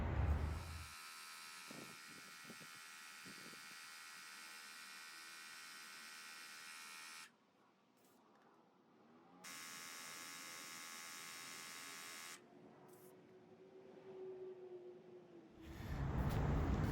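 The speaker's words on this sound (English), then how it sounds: "go ahead and inflate all of these 4 tires" A portable tire inflator buzzes steadily while pumping up the tires of a Toyota FJ Cruiser. It runs in two long stretches with a short pause between, faint and continuous with no talking.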